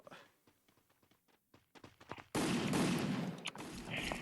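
Gunfire in the mobile shooter Free Fire starts as a few faint, sparse taps, then breaks into a sudden loud, sustained burst of rapid shots.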